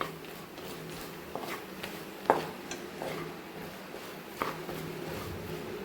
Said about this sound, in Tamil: பாகு ரெடியானதும் நம்ம வறுத்து வச்சுருந்த பொட்டுக்கடலையை போட்டு நல்லா கிளறணும்